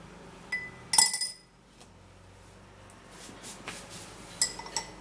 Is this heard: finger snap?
no